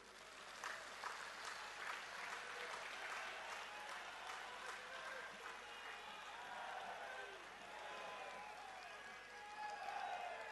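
A large crowd at a political rally in India claps loudly in honour of fallen police officers, a sustained wash of applause with some shouting mixed in, heard at a distance.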